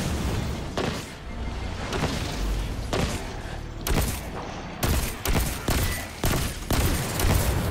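Pistol fire in Destiny 2 cracks out in rapid bursts of sharp, loud shots with short pauses between volleys, backed by busy combat noise and no talking.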